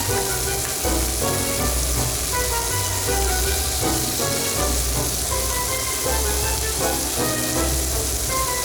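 Onions, carrots and red pepper frying in a hot pan for Chinese takeaway crispy chilli beef, a steady dense sizzle running throughout with rustling stirring sounds mixed in, close and fairly loud.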